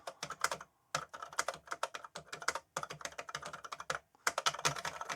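Keys clatter in quick, uneven bursts on a red and black plastic 1980s microcomputer keyboard, close and crisp, with short pauses between runs of typing and no talking.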